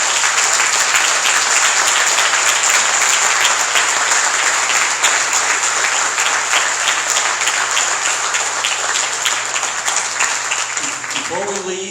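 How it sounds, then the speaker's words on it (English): A room of forum attendees claps for three candidates, a loud, dense, continuous round of applause that holds for the whole stretch and thins slightly at the very end. "And now would you give a round of applause for our three candidates?"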